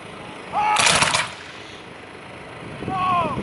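Black powder muskets at a Civil War reenactment fire by rank: two rolling volleys, one near the start and another near the end, each a loud burst of overlapping cracks with some distant boom and echo.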